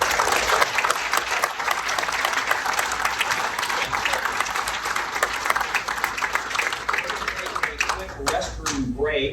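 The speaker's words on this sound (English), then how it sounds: "Let's have a round of applause." Sustained banquet applause for the 1964-1965 Wichita State Final Four team, a full room clapping steadily and loudly, with a voice emerging as it winds down at the end.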